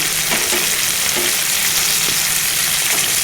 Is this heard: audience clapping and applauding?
no